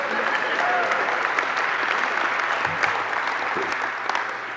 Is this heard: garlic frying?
no